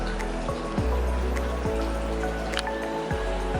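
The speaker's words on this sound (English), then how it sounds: "Shower." Water runs steadily from a shower in a hotel apartment bathroom in Makati, Manila, a continuous hiss with light splashing and dripping, fairly close and alone without talk.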